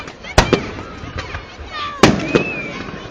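Fourth of July fireworks in West Allis, Wisconsin go off in two sharp, loud bursts, each followed by crackling and whistling trails. A voice can be heard faintly in between.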